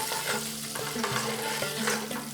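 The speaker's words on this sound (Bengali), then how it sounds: "এরপর ডিমটাকেও একটু ভেজে নিচ্ছি।" An egg fries in hot oil with turmeric and chilli powder, a steady close sizzle broken by repeated scrapes and stirs of a spatula in the pan.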